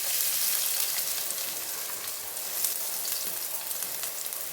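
Thinly sliced onions fry in hot oil and ghee with a bright, continuous crackling sizzle, close and steady, along with occasional soft stirring, and no talking.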